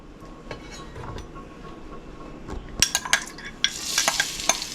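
Chopped onion and ginger sautéing in hot oil as the base of a Schezwan chicken sauce: a low steady sizzle with scattered spoon-on-pan clinks and stirring scrapes that build to louder, brighter frying toward the end.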